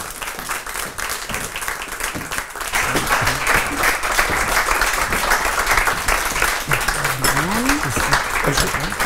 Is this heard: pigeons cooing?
no